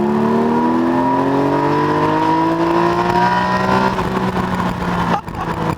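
A Porsche Spyder engine revs up in second gear from 3000 RPM with a loud, close, rising drone, then eases off near the end.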